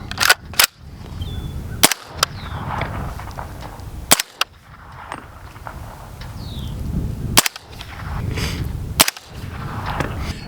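Suppressed rifle shots from an Anechoic suppressor fitted with a solid end cap, firing 220 grain subsonic rounds outdoors: six or so sharp, muffled cracks spaced a second or two apart, each followed by a brief outdoor echo.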